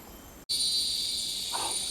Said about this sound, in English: I do love the almost deafening sound of the cicadas.